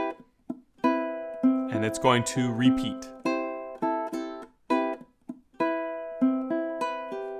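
Ukulele riff, plucked notes ringing in short repeating phrases with gaps, someone talking over the middle stretch.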